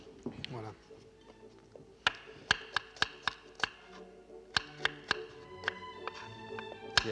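Knife chopping vegetables coarsely on a board while fish is prepared for a poached sea bass with beurre blanc, a series of sharp irregular knocks, some in quick pairs, with speech in between.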